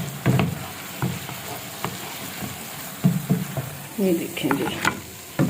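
Hash brown potatoes, browned on both sides, sizzle in a frying pan as a spatula stirs and scrapes them out in short bursts, with someone briefly speaking over the cooking.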